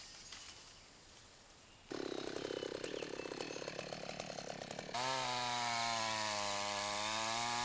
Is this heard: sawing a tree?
yes